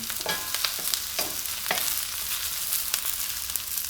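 Eggplant sizzling in a pan over medium heat, a steady bright hiss with scattered crackles and the occasional scrape of stirring, moderately close and with no voices.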